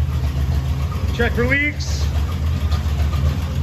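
A 1970 International Scout engine idles steadily as it warms up, a low, even rumble close by that runs throughout while someone speaks briefly over it.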